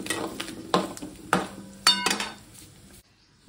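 A spoon clinking and scraping against a metal vessel while turmeric and asafoetida are stirred into mango pickle, with several sharp knocks spaced a moment apart, then a brief near-silence.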